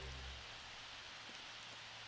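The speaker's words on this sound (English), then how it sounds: "And it is raining, so he's not going to be doing much outside right now." Steady rain falls in The Sims 4, a soft even hiss of light drops that holds unchanged throughout with no voices over it.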